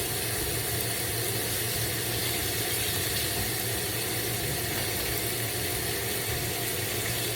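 Bacon frying in a pan for smothered pork chops gives a steady, close, loud sizzle, a continuous crackling hiss with no breaks throughout.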